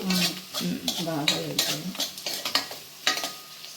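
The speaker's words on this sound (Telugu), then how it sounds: "ఉల్లిపాయ ముక్కలు ఇలా వేపుకోవాలి ఇంకా ఎర్రగా" Onion pieces frying in a pan with turmeric and salt, stirred steadily: continuous sizzle with repeated scraping and tapping strokes up close, and a voice partly over it.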